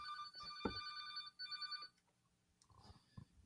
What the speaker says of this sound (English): Would you call the Caveman News headquarters phone number so that we can three-way call Sean?